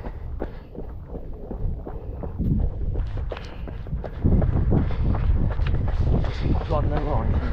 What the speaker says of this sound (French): Bien au vent, bien frais.